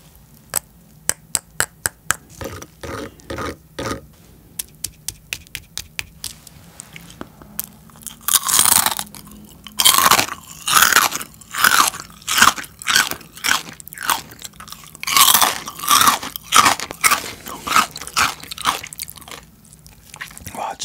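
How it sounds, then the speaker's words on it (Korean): Crispy fried pork belly skin, steamed first and then fried, is bitten with a string of sharp, close crunches, then chewed in loud rhythmic bursts of crackling, with no talking. "그래서 만들어진 이 껍데기 먼저 먹어볼게요"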